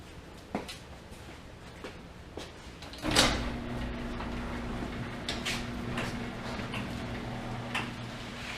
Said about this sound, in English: I'm going to open the door here, get some ventilation